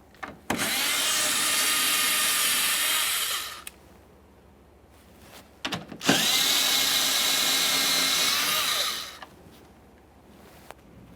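Power tool spinning out two 7mm headlight mounting bolts on a Ford F-150 pickup, in two separate whirring runs of about three seconds each, close and fairly loud, with a short quiet gap between.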